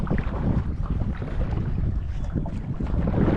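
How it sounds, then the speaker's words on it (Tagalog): Strong wind buffeting the microphone out on the water during tenkara fishing, a continuous low rumbling roar with no break. "Malakas ang hangin."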